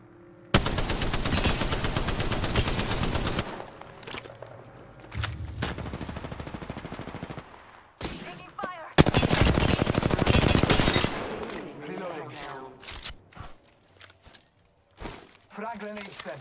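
Rapid automatic gunfire from an Apex Legends match rattles loud and close in long bursts, broken by gaps, reload clicks and shorter volleys, with a voice speaking intermittently over the action.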